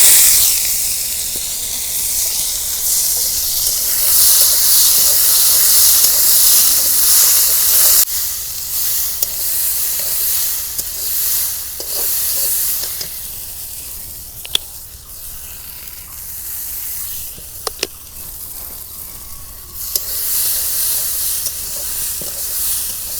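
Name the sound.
oil heating and sizzling in a wok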